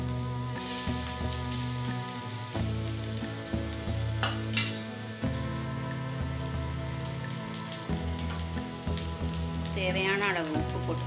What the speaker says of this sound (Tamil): நல்லா வதக்கி விடுவோம்